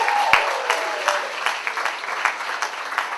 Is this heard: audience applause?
yes